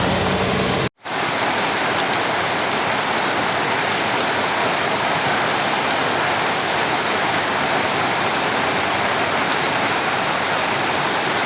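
Heavy rain during flooding in Jammu and Kashmir pours down as a loud, continuous hiss of water hitting surfaces, unbroken except for a brief dropout near the start.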